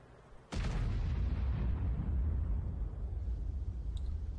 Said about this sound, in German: Und da sieht man jetzt den Vorteil dieser schnell schießenden Kanone.